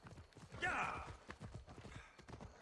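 Horse hooves clip-clop in a rapid rhythmic trot in the video game Assassin's Creed Odyssey, faint and steady beneath a brief burst of game sound.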